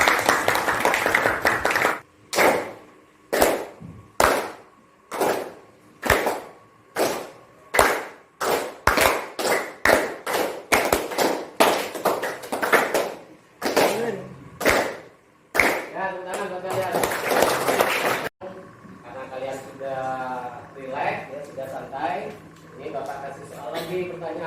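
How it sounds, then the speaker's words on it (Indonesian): Students applaud in a classroom after a practical class project, with a run of loud, rhythmic claps ending in a burst of dense clapping, and then a teacher talks. "aplaus buat kalian"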